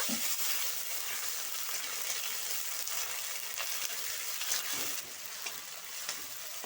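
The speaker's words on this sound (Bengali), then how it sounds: "টমেটো কুচি একটু ভাজা ভাজা করে নেব" Chopped tomato fries in a pan after a chilli tempering, a dense close sizzle with light stirring throughout, steady and fairly loud with no voices.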